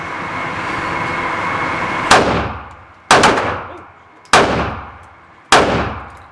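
Four sharp, loud gunshots at an outdoor gun range, spaced about a second apart, each with a ringing decay, after a few seconds of background murmur.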